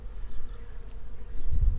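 A faint, steady buzz of young honeybees hums softly for a moment, low and continuous.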